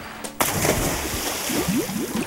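Water splashing and sloshing as children dive into a clear, natural spring-fed pool in Sogod, Southern Leyte, with a sharp splash near the start followed by continuous churning water and faint voices in the background.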